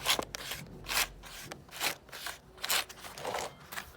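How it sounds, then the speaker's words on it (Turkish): Rhythmic rasping strokes of sandpaper rubbing a punctured bicycle inner tube, repeated back and forth at a steady pace, close up with no talking. "bu alandaki bütün tozu, kiri zımpara yardımıyla temizliyoruz."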